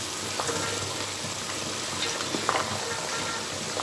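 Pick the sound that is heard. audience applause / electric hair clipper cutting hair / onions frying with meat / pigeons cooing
onions frying with meat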